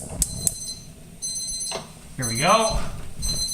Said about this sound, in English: Turn off the timer for my macaroni and cheese